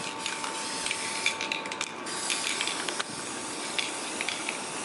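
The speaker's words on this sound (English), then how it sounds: "So I'm using this Rust Oleum hammered spray paint" Rust-Oleum hammered spray paint hisses from a can in short, close bursts with brief pauses between them, fairly quiet, with no talking.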